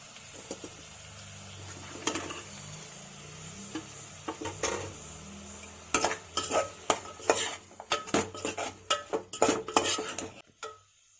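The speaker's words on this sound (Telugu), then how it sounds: "ఇప్పుడు ఇందులో మనం బీరకాయ ముక్కల్ని వేసుకోవాలండి." Ridge gourd pieces are tipped into a pan and stirred, giving a soft sizzle under repeated close scraping and clinking of a metal spoon against the pan, growing busier toward the end.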